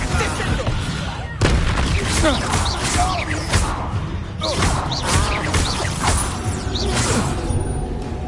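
Incendio fire spell cast in Hogwarts Legacy, repeated bursts of crackling flame and impact blasts, loud and dense across the whole stretch, with game effects layered throughout.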